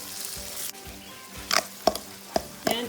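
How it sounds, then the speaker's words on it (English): Onions fry with black pepper in a pan, a soft steady sizzle broken by several sharp scraping stirs of a utensil against the pan, close and alone with no voices. "fry the onions until they are translucent"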